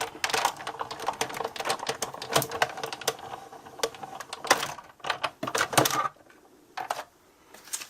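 Folded card stock sandwiched with a flat cutting plate is cranked through a die-cutting machine, giving a close, busy run of rattling clicks and clunks that stops abruptly, followed by a few sparse clicks.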